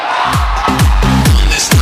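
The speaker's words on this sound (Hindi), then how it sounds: "अगर आप जिंदा हैं तो ताली दमदार बजाओ मेरे दोस्त।" Loud, close claps and cheers from a seminar audience at a company event, several sharp bursts of clapping mixed with crowd noise and a few shouts.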